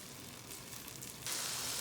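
Tomatoes cooking in a pan for kadai chicken give a steady, close sizzle and crackle with no voices, and the frying hiss turns brighter and louder partway through.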